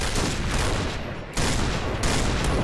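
Rapid, dense gunfire in the shooter game Point Blank, a loud continuous barrage with two brief dips, alone with no talk.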